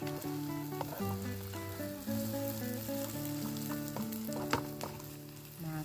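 Eggs fry in a pan and are stirred together with cooked vegetables, a soft, steady sizzle with occasional stirring clicks, heard quietly beneath background music.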